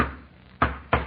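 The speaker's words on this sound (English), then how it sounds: "That's the French Foreign Legion secret knock" Two sharp knocks on a door, spaced about a third of a second apart, sounding close and fairly loud against a quiet background in an old radio comedy.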